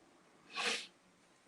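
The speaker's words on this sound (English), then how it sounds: "Blow my nose." A single short, breathy nasal blast swells and fades in under a second, moderately loud against a faint background hum.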